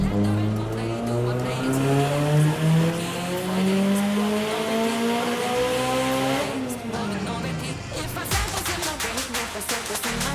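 A Nissan S13 240SX engine on a dyno climbs steadily from low revs to redline in gear, its rising whine filling the room, then drops off abruptly into rough, clattering decel and popping.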